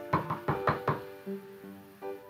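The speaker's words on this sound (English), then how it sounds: "knocked on the door" Four quick knocks on a castle door, close and distinct, followed by a couple of softer thuds and a fading ring.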